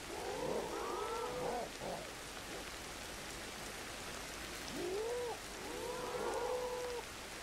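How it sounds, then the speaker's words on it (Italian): Steady rain hisses through a prehistoric jungle in Ancestors: The Humankind Odyssey, a continuous even wash while two bursts of wavering, animal-like calls rise and fall over it. "in questa zona qua abbiamo che piove molto di più rispetto alla zona di prima"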